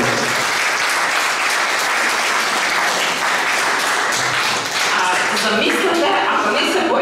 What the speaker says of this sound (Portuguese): Molim vam veliki aplauz.